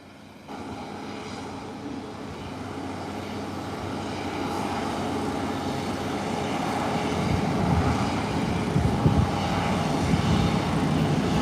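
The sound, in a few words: arriving Sunrise Airways airliner from Cap-Haïtien, Haiti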